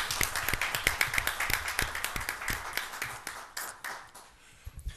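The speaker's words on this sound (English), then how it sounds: "I just want to give her a round of applause" A round of applause at a town selectmen meeting: many hands clapping in a steady patter that thins and fades toward the end, moderately near.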